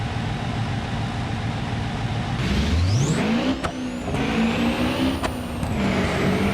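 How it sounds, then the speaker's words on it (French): A car engine in the video game BeamNG.drive revs up with a rising pitch over steady mechanical rumble, followed by sustained high revving and a couple of sharp clicks. "c'est toujours plaisant aussi d'avoir un petit peu le bruit du moteur"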